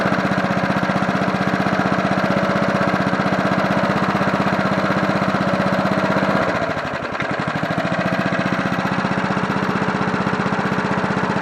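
A 1980s John Deere push mower's small engine idles loudly and steadily up close, briefly dipping and wavering in speed midway before settling back to an even putter.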